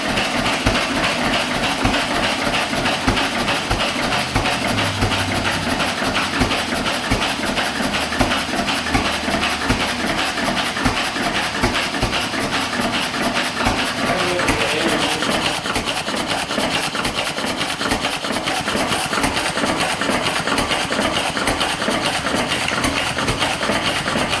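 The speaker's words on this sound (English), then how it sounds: "to change the revs of the engine, you just adjust that there." A stationary engine runs continuously at steady, fairly loud volume, its rapid mechanical chugging and rattle filling the whole stretch as the governor adjusts the revs, with a slight shift in tone partway through.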